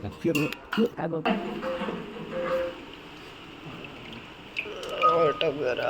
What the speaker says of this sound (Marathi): मी ते पाणी टाकलं.